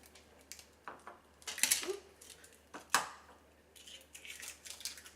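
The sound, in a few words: cracking eggs into a bowl for keto pumpkin pie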